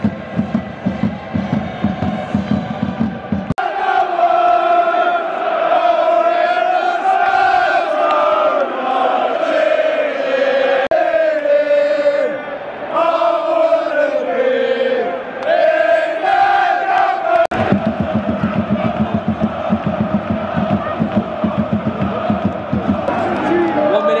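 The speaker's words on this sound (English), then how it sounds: "Fans in full voice here. Loads of flags, loads of noise" Borussia Dortmund football fans chant in full voice in a stadium against Spurs, a loud sustained crowd roar with rhythmic sung chanting that swells through the middle and stays dense throughout.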